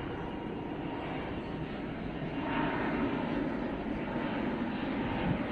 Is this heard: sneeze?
no